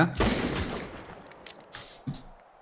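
A quick burst of rapid video game gunshots cracks out, followed by a few scattered single shots, sharp and close, in a short noisy exchange.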